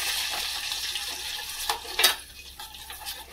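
Chilli powder being stirred into hot refined oil in a pan off the heat, a soft scraping and faint sizzle with a couple of sharper spoon clinks near the end, close and alone.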